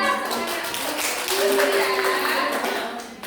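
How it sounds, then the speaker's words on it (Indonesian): A classroom of students claps together during a teaching practice lesson, a short burst of dense hand clapping mixed with voices. "tepuk tangan kita"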